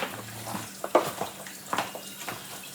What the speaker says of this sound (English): Now you're just gonna cover that corn, stir it.